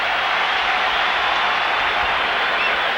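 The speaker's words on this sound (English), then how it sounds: "And the crowd again saluting their local boy." Baseball crowd at the Ballpark in Arlington cheering and applauding Ivan Rodriguez during the 1995 All-Star Game, a steady dense wash of clapping and crowd noise with no break across the stretch.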